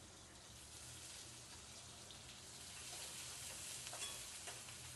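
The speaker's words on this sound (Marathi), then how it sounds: "कांद्याला मऊ होईपर्यंत तेलात परतून घ्यायचं." Finely chopped onion softening in hot oil for an egg masala, giving a steady, moderate sizzle with faint stirring that swells slightly toward the end, no voices over it.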